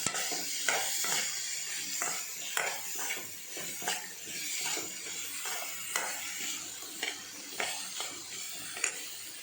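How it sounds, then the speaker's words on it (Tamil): Curry leaves sauté in a pan with a low, steady sizzle under frequent quick scraping and tapping strokes of a utensil against the metal, fairly close but not loud. "இதில் கொஞ்சம் கருவேப்பிலையும் சேர்த்துக்கலாம். சேர்த்துட்டு நல்லா வதக்கலாம்"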